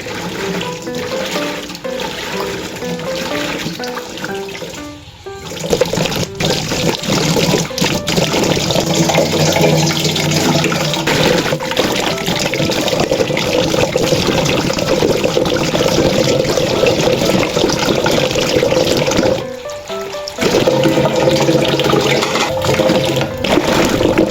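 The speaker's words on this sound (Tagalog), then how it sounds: "bago natin iluto, kailangan muna natin hugasan para masiguridad ang kalinisan ng mga sahog" Vegetables such as onions, tomatoes and okra for the Ilocano dish inabraw are washed under a running kitchen tap, with a steady, loud rush of water splashing continuously for the whole stretch and brief dips in the flow.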